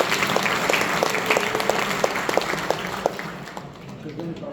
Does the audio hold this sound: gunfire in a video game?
no